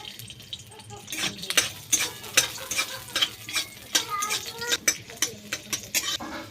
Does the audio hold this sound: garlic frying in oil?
yes